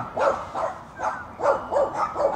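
Several dogs bark back and forth in a noisy squabble, a rhythmic run of sharp, mid-distance barks and yips repeating roughly every half second with no talk over them.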